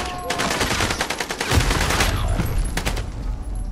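Gunfire in Call of Duty: Modern Warfare: rapid automatic bursts and a loud fusillade of shots with a heavy low thump partway through, close and dense throughout.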